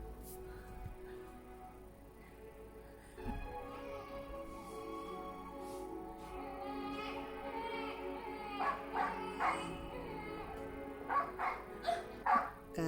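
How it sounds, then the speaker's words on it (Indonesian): A dog barks and yelps repeatedly in short bursts, growing louder and more frequent toward the end over a background of music. "Karena anjing ingin menolong bayi, sehingga dia terus menggonggong, mencari pertolongan sampai di seluruh kota"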